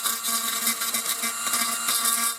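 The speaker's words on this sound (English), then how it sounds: "It's a cordless Dremel with a diamond burr on the end, and that's what I'm hopefully going to use to clean off all of this crusty here." A cordless Dremel rotary tool fitted with a diamond burr grinds crusty corrosion off a handheld pocket radio's metal parts, a steady high-pitched whine and buzz with gritty rasping, close and continuous throughout without talk.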